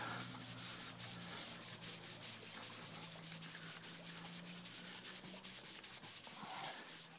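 A rag with polishing compound is rubbed back and forth on a Yamaha XT200 aluminum lower fork tube, a rapid, steady, close scrubbing rhythm with a low hum underneath and no talking.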